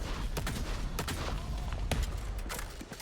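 Rapid pistol gunfire in the video game Valorant during a pistol round at a professional esports match, a dense run of sharp, punchy shots in quick bursts over a constant background rumble.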